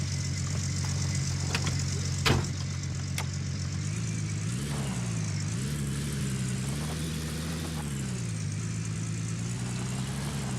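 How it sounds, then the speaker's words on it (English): A pickup truck engine idles steadily in Gold Rush: The Game, a low droning rumble with slight pitch wavers and one brief knock, no talk. "This truck doesn't sound like a diesel."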